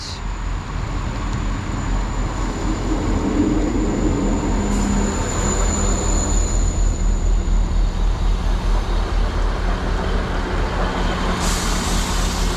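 A South Western Railway Class 158 diesel unit, 158 888, pulls into a station in wet weather, a low sustained engine rumble and rolling noise with a faint high whine, fairly loud and steady, heard alone.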